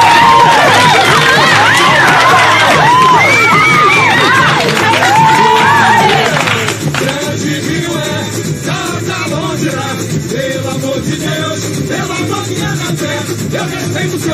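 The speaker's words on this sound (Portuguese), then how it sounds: "Merece muitas palmas e com muitos gritinhos." A loud carnival crowd at the Grande Rio samba school parade, with cheering, shrill shouts and squeals, and excited chatter. The noise is packed at first, then eases into a lower, busier hum of voices.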